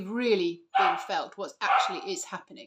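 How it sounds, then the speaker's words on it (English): A pet dog barks and whines in the background, with a bright yelping burst at the start and fainter barks under a person's steady, close talking. "Excuse my dog barking away in the background"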